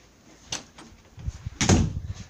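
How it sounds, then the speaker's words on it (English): A door being shut indoors: a sharp knock-like thump, then a louder thud with a rattle a second later, fairly close in an otherwise quiet room. "let's just close the door"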